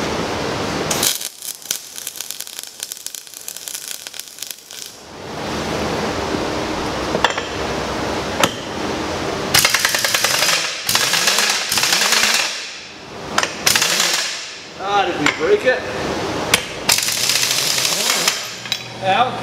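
A 1-inch drive impact wrench hammers at a brush hog blade, loud rapid rattling bursts in several runs separated by pauses, with metallic clinks and clanks close by.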